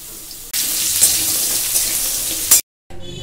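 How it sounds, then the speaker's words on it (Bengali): Potatoes with turmeric frying in hot oil in a home kitchen pan, a loud continuous sizzle that starts abruptly, holds steady, then cuts to a brief silence before resuming faintly. "এবার আলুটা ভাজছি"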